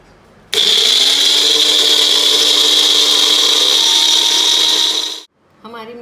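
A mixer grinder whirs loudly at high speed for several seconds, grinding chili paste steadily, then cuts off abruptly; a voice starts speaking right after.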